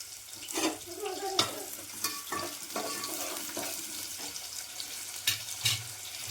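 Chopped onions frying in hot oil for a home-cooked chicken curry, a steady sizzle broken by scraping stirs of a spoon in the pan, moderately close with no talk.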